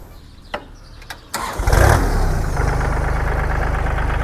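A Kubota L3608 tractor engine cranks and fires up after a few light clicks, then settles into a loud, steady diesel idle with a rough, throbbing rumble.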